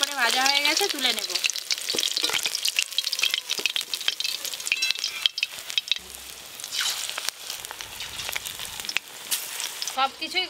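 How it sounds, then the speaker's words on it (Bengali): Prawn fritters frying in oil, a loud, busy sizzle with bursts of spitting and crackle, plus a few utensil clinks close by. "চিংড়ি মাছের বড়াগুলো বেশ ভালো করে ভাজা হয়ে গেছে"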